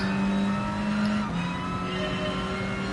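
Race car engine in Gran Turismo Sport, a steady droning hum holding close and loud at one pitch, then shifting slightly lower partway through.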